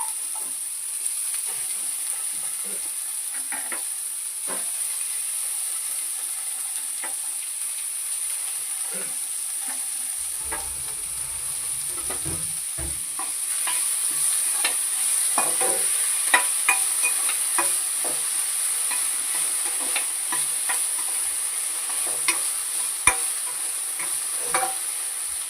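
Onions and potatoes frying in a pan for kanda poha, a faint steady hiss with scattered soft crackles and occasional stirring clicks, no talk.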